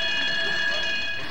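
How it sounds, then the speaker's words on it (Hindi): Alarm tone sounding in a guarded diamond display room in a dubbed South Indian action film, a steady high-pitched electronic ring held continuously and loudly throughout. "हीरा चुराने के लिए कोई अगर हाथ बढ़ाएगा तो अलार्म बज जाएगा"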